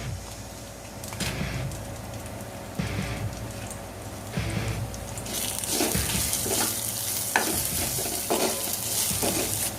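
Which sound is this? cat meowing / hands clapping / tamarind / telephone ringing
tamarind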